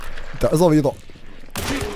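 A gunshot in the game Hunt: Showdown cracks out between stretches of excited talk, a brief sharp burst with a second burst of noise following, mixed closely with the player's voice.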